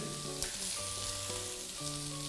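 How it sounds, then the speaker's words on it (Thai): Shrimp sizzle and crackle in a hot pan, a steady close frying hiss with small pops and a light metallic clink, no voices. "ตั้งกระทะให้ร้อนด้วย เอากุ้งลงย่างแบบนี้"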